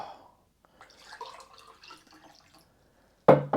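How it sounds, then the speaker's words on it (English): A person drinks water in a quiet room: faint sips and liquid sounds for a few seconds, then a brief, louder splash or gulp at the end. "I'm gonna drink water."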